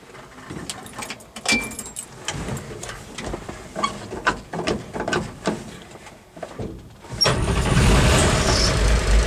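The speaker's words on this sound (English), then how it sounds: "Alright, the truck is running." An old 1957 Chevy truck engine, running a fan belt made from a T-shirt, cranks and catches, then settles into a loud, steady rumbling idle after several seconds of clanking and handling noises.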